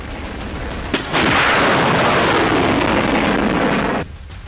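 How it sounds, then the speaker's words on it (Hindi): A single missile launch or heavy artillery blast erupts as a loud, sustained broadband roar lasting about three seconds, then cuts off abruptly back to a lower rumbling background, with no voices. "मिसाइल गरजेगी,"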